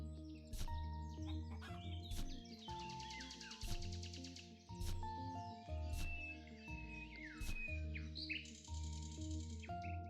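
Chickens in the Equilinox video game cluck and cheep in repeated bursts alongside chirping birds, layered over a steady tonal musical backdrop with no talking.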